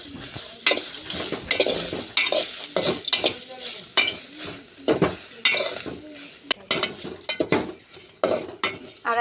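Bay leaves frying in a pan for a hilsa fish curry, with steady close sizzling broken by frequent sharp stirring and utensil scrapes against the pan, busy and irregular throughout with no talking.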